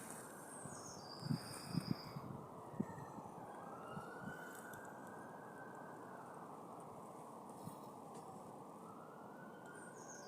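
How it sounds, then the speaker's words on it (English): Emergency sirens wail in the distance over a steady rush of street noise and rain, with a few faint knocks near the start. "the blue sirens that are screaming down the street"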